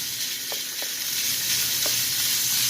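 Taco meat drops into a hot pan and sizzles steadily, a dense crackling hiss with a few soft clinks of a spoon, close and continuous.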